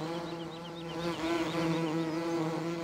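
Bees swarm out of beehives in Farming Simulator 17, a steady droning buzz with layered wingbeat tones that rise slightly and hold, continuous and fairly close.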